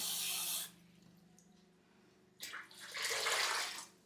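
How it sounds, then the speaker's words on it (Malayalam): Water poured into rice for cooking, a short splashing gush that stops, then a second longer pour after a brief pause. "കുറച്ച് കൂടുതൽ വെള്ളം ഒഴിച്ചു"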